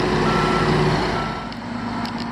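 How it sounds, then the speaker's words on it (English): A dump truck reverses on a construction site beside a trench, its backup alarm sounding over a steady engine drone at close range. "Here's the dump truck backing up."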